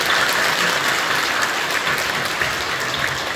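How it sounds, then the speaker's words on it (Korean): A church congregation applauds its ministry workers during a Holy Week service, a thick, even roar of clapping from many people filling the room steadily from start to finish. "박수로 격려해 주시기 바랍니다."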